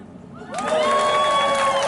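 A crowd at a protest rally breaks into cheering and whistling, rising suddenly from quiet into a loud, sustained wash of shouts and applause.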